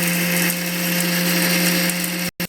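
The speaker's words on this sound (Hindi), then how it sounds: "मेथी भी ग्राइंड कर लेते हैं।" Fenugreek seeds whir in a kitchen mixer grinder, a loud, steady high-pitched motor drone with a constant hum that runs unbroken before cutting off abruptly near the end.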